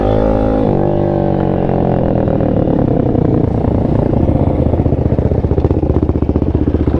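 A TaoTao 140cc ATV engine drones loud and close through a long wheelie, its pitch shifting as the throttle is held, with a rattling clatter building toward the end.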